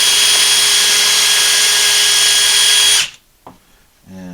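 A power drill drives angle screws into wood on a workbench, a loud steady high whine for about three seconds that cuts off abruptly, followed by brief faint handling noises.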